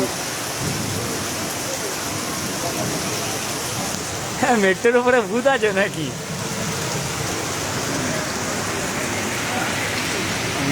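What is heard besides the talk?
heavy rain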